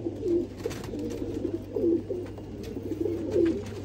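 A pigeon coos in a soft, repeated rhythm, several low burbling calls spaced about a second apart, close by and fairly quiet over a steady low hum.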